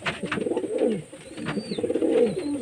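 Domestic pigeons in a home loft cooing in soft, repeated throaty rolls, close by and moderately quiet, with a faint high chirp in the background and no speech.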